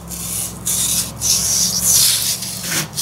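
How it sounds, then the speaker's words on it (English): Hand sanding with 600 grit sandpaper on a metal part of a 2014 John Deere 2032R rear final drive makes close, loud back-and-forth rasping strokes in a quick, uneven rhythm. "600 grit sanding here."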